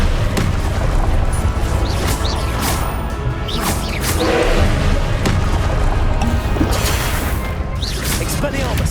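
Expelliarmus and Confringo spells blast in quick succession in Hogwarts Legacy combat, with loud repeated booms, crashes and whooshes over a constant wall of game noise and character voices.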